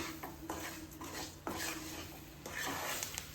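A utensil scrapes and clinks around a pan while egg fry is stirred patiently, making several quiet, close scraping strokes at an uneven rhythm with a faint sizzle beneath and no speech.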